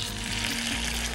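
Scallops searing in a hot pan give off a loud, dense, continuous sizzle that fills the short moment without pause.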